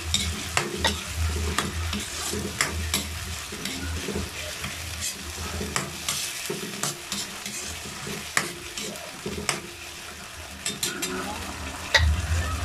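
Sardines stir-fried with sponge gourd in a sizzling pan, with a spatula scraping and clinking in irregular bursts over a steady frying hiss, close up with no talking.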